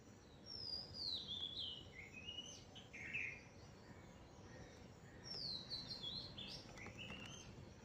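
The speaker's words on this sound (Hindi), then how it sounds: "बुलबुल बैठी हुई है।" A bulbul perched in a small kitchen garden on a bright, sunny morning gives two bursts of sharp, whistled chirps a few seconds apart over a steady outdoor hiss.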